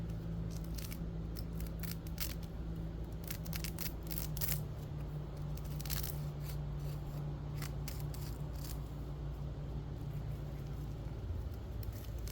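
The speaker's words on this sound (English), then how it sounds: "I'm going to take my razor knife, I'm going to outline the pot." A razor knife cuts around a plastic plant pot while planting boxwoods outdoors, a series of short scraping slices over a low steady hum, faint and without speech.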